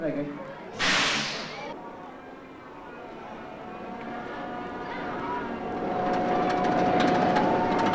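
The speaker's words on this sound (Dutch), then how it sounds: "Een kettinglift trekt de Python uit het station via een helling van 25 graden naar 30 meter hoogte." A 1981 Python steel roller coaster train at Efteling theme park pulls out of the station onto a 25-degree chain lift, starting with a sharp hiss-like burst, then a building mechanical rumble and whine that grows louder.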